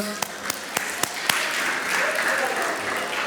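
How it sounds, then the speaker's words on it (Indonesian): A few sharp, evenly spaced claps, then a church congregation joins in with sustained applause, loud and close, with some voices mixed underneath. "kau tepuk tangan dulu"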